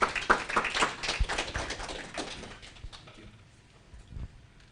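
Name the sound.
audience applause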